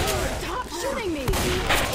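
Rapid gunfire crackles through a Left 4 Dead 2 zombie fight, dense and close, with voices shouting over the shots.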